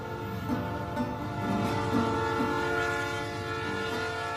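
Union Pacific train passing on tracks in a small rural community, a continuous droning rumble with sustained horn-like tones, steady and moderately loud throughout with no talk.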